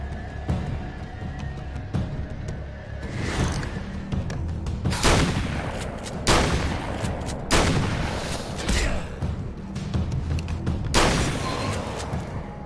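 Gunfire in the video game Alan Wake's American Nightmare: several sharp, loud shots and booming bursts at irregular intervals over a rumbling game background.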